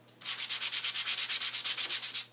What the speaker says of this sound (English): The good thing about our sanding gadget is that it has a small side and a larger side